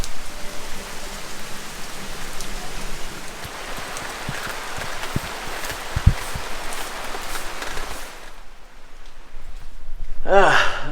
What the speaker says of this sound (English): I was planning on going outside, but it's raining outside right now.